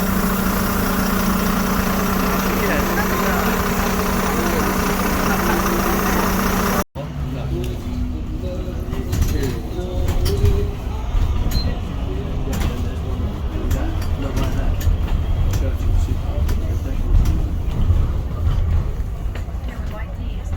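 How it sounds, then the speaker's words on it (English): A diesel engine in a van rumbles steadily at low pitch throughout on the streets of Brighton, UK, with a brief cut partway; voices and street noise sit on top of the drone. "Under cover of the diesel engine, we won't get a copyright infringement on the guy's music."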